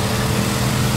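Car engine in the demolition racing game Wreckfest, driven in reverse with the engine in front: a loud, steady, low droning engine note held at constant revs with no break.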